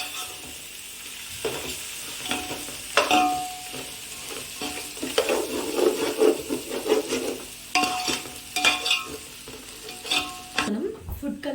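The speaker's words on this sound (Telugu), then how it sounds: "నెక్స్ట్ మనం మొత్తాన్ని నీట్గా అడుగంటకుండా మిక్స్ చేయాలి" Food frying in a pan is stirred with steady scraping strokes over a constant sizzle, close and clear, the stirring coming in irregular bursts with no voices.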